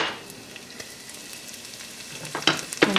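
Onion, garlic and chili flakes frying in butter, a soft steady sizzle that swells near the end with a few louder crackles and stirring clatters, close and unaccompanied by speech.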